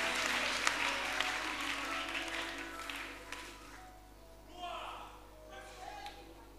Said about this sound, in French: Alors acclamez encore les mains pour lui.